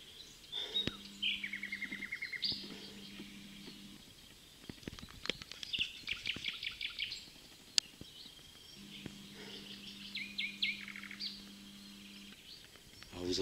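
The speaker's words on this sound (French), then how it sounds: "vous entendez, on entend particulièrement bien les oiseaux ici." Birds sing along a mountain trail in the countryside, with scattered chirps and short trilling phrases at moderate distance, alongside a steady low hum and intermittent rustling.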